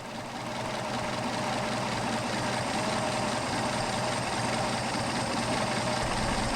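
A Mercedes 190SL engine idles steadily during Solex carburetor mixture adjustment, a continuous rough, throbbing running note heard close up and fairly loud, holding an even level throughout with no voices.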